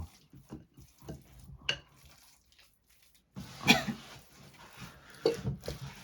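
Embutido meat mixture is mixed by hand at home, giving soft, wet squelching and stirring sounds in a few irregular bursts, quiet and close, with brief pauses between.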